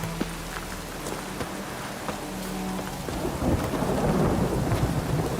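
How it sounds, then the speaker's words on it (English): Steady rain in the video game The Witcher 3 hisses and patters, with a low rumble building toward the end, continuous and fairly loud with no voices. "It's 10 a.m. It's raining."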